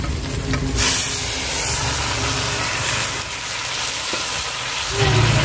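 Boiled, drained taro leaves tossed into hot oil with onion and green chili, a steady close sizzle with stirring scrapes and a louder burst of hiss near the end, no talking.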